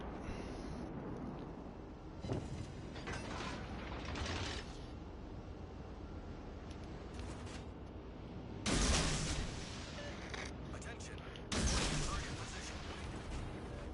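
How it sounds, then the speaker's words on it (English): Warship artillery in the World of Warships Legends game sounds as several heavy booming salvos at irregular intervals, two standing out loudest, over a mechanical rumble with voices talking throughout. "Concentrate fire on the enemy warship. Yeah, we'll put some fire on them."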